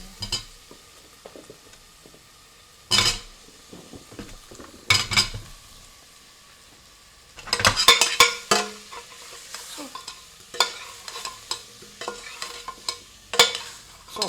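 About ten pieces of lamb for lamb tikka cooking in a pan, bursts of sizzling and spatula scraping and clattering against the metal, close and intermittent with quiet gaps between, no speech.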